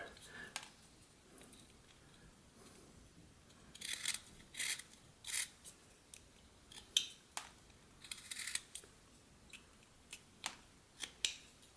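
A whittling knife carves a wolf head from butternut wood, making intermittent soft scraping and slicing strokes, some sharper crisp cuts among quieter rubbing, close and faint with pauses between them.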